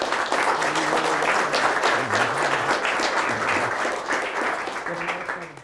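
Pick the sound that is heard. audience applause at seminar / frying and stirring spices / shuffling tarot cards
audience applause at seminar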